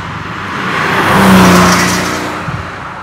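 A 1989 Porsche 911 Turbo Targa with a five-speed manual gearbox is driven, its engine a steady broadband drone that swells to a peak midway, with a rising whine laid over it before easing off again. No one speaks.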